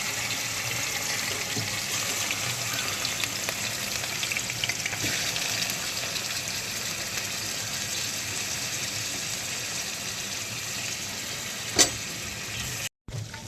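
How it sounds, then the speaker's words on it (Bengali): Chicken pieces fry in a kadai with a loud, continuous dense sizzle, a few faint stirring scrapes and one sharp knock near the end. "এবার আমি চিকেনগুলোকে আস্তে আস্তে দিয়ে দেবো কড়াইয়ের মধ্যে।"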